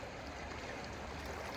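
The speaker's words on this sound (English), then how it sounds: "the sound of the river in the background" A river rushes over rocks in a steady, even wash of water noise, continuous and fairly soft, heard alone in the background.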